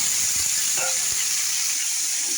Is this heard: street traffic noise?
no